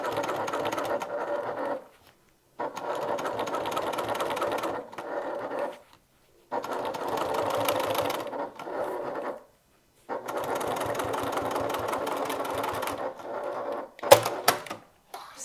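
A sewing machine top stitching a handbag runs in four bursts of rapid mechanical whirring, each lasting two to three seconds with short pauses between, followed by a brief clack at the end.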